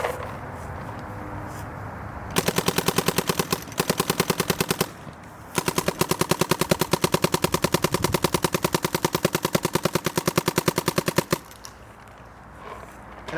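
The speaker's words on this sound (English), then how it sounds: "I'm shooting some APX paint here." Planet Eclipse Ego LV 1.6 paintball marker firing APX field paint through a Bunker King Control hopper, loud rapid-fire bursts of sharp shots in long strings broken by a few short pauses.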